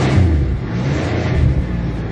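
A 1992 Buick Regal engine revs and rumbles steadily up close, a low continuous drone with slight swells, heard alone without talk.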